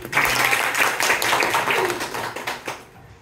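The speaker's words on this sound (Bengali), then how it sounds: "আমি একটু হাততালি দেই" A teacher claps her hands in a classroom training session: a brisk, close run of sharp claps that lasts about three seconds and then stops.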